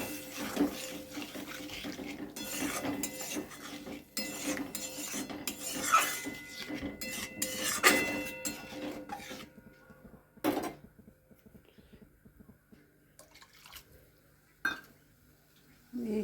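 Spice masala mixed with water, including Kashmiri chilli powder, is stirred in a pan with intermittent spoon scrapes and metallic clinks, quiet and close, with pauses between strokes.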